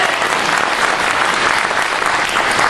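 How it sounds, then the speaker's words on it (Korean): Audience applause for a lecturer at a Korean March 1st commemoration event, a loud, even wash of clapping from a large crowd that holds steady without breaks. "여러분 큰 박수 부탁드리겠습니다"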